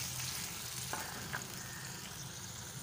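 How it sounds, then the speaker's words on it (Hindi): Beef fries in a karahi pan with a soft, steady sizzle and crackle, faint and close, with a couple of light stirring scrapes. "बस पहले बीफ को भून लेते हैं"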